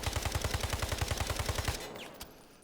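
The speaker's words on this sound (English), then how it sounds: "We're just going to pull the trigger while ADSing until we're out of our 20-round mag." In Delta Force, a gun empties a 20-round magazine in one rapid, evenly spaced burst of close, sharp reports, then cuts off abruptly, leaving a faint click and quiet afterward.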